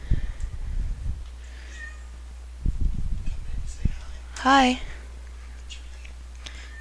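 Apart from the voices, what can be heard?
cat meowing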